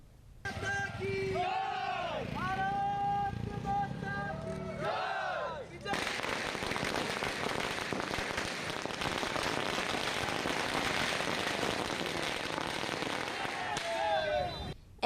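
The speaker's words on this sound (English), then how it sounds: "the members of BJP has burned the firecrackers at the Junction Gate in the capital on Friday evening" Firecrackers burst at a street election victory celebration by party workers at a city junction in the evening, a dense crackling roar filling most of the clip after people talk and shout over the first few seconds.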